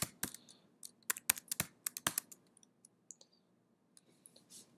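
Typing on a computer keyboard while entering R commands in a Sage worksheet: a quick, uneven run of sharp close key clicks in short bursts, then sparser taps, with no talking.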